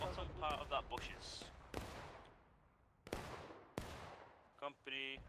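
Musket fire in the War of Rights battlefield game: several sharp, echoing shots, some close and some distant, spread irregularly across a few seconds, with brief bursts of other game sounds in between.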